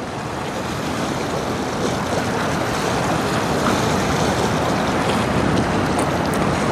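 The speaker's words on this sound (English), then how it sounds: "we have the Frontenac coming down from Lake Huron into the St. Clair River" Steady broad wash of wind and water by the St. Clair River as the 729-foot bulk carrier Frontenac passes, a continuous even rushing with no distinct engine note standing out.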